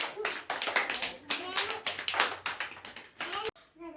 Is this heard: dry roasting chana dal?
no